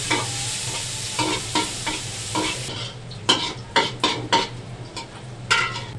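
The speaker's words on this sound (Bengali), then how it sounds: "প্রথমে আমরা পেঁয়াজটা ভেজে নিলাম" Onions fry in oil for a biryani, a close, busy sizzle with several sharp metal clanks of a ladle against the pot, the sizzle thinning partway through while the scraping strikes continue.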